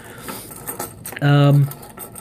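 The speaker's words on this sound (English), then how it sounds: "This Leatherman style CS comes on and off my keys depending on what I'm doing." A bunch of keys on a keyring carrying a Leatherman Style CS tool jangles and clinks up close, with a sharp metallic rattle and a brief ringing tone near the middle.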